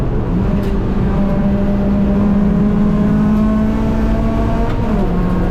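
A race car's engine drones steadily at high revs on a racetrack, a loud continuous in-car whine with a slight pitch shift as it downshifts through a corner.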